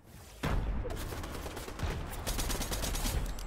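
Gunfire in the Fortnite video game: rapid bursts of shots crackle in quick succession after a brief quiet start, loud and dense throughout, with no speech over them.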